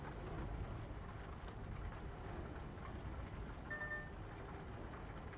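Gentle rain falls in Euro Truck Simulator 2 with a Scania truck, a steady soft patter and hiss throughout with a low engine rumble beneath and a brief faint tone near the end.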